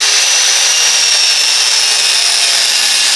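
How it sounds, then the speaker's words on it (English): A cutoff wheel grinds a notch into steel pipe, giving a loud, steady, high-pitched abrasive whine that holds unbroken for the whole stretch before stopping abruptly at the end. "when I take my cutoff wheel, I can cut a notch that will wrap around this pipe so I can weld it"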